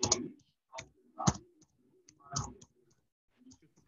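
Computer mouse clicks during on-screen navigation, several sharp, close clicks spaced irregularly with near silence between them.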